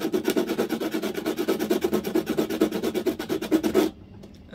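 Sandpaper rubbed back and forth for PC watercooling work, a loud, fast rhythmic rasping of even strokes that stops abruptly near the end, leaving near silence.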